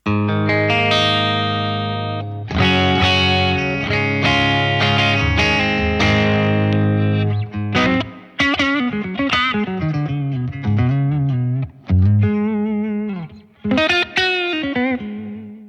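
Electric guitar through an Origin Effects Revival Drive HOTROD Edition, dry signal, plays sustained chords then melodic bends and slides, in a warm, slightly driven tone with some effects, loud and close, no talking.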